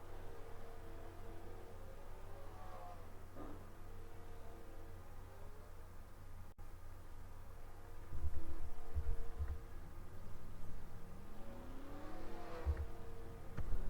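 A race car in a NASCAR video game pulls into a pit stop, its engine droning at a moderate level with pitch rising and falling as it slows, then a louder stretch with low thumps toward the end.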